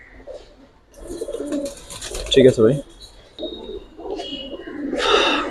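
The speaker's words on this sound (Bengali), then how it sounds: "এটা কবুতর হাতেই ডাকে" Giribaz pigeons coo in soft, throaty bursts close by, perched on a hand, while someone talks over them; a brief louder rustle follows.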